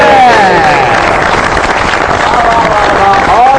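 Studio audience on a Pakistani comedy talk show clapping to welcome a guest, a steady, loud wash of dense applause throughout with a faint voice running beneath it.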